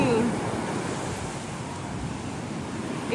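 Ocean waves surge and crash loudly onto a beach during a family outing, a steady roaring wash of surf with wind buffeting the microphone throughout the short stretch.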